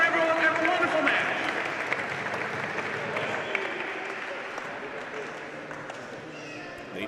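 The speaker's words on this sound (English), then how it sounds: "Round of applause for everyone." Audience applause and crowd noise in an arena at a korfball final, a steady dense wash of clapping that slowly thins over several seconds with no distinct voices.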